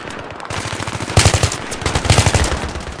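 Automatic gunfire in the video game Battlefield 3, two loud bursts of rapid shots close by, the first starting just after a second in and the second near two seconds, with brief quieter shots before.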